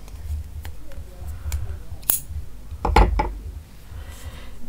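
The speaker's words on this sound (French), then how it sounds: "On va ici couper le fil jaune." Scissors cutting yellow crochet yarn, a couple of sharp close snips amid quiet handling noises.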